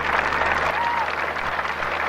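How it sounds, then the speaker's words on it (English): A large crowd applauds steadily and loudly at an outdoor Australia Day ceremony in 1988 as the royal couple cross a forecourt, the clapping dense and continuous with faint voices mixed in. "They're spontaneously standing and applauding as they cross in front of the Royal Defence Force Guard"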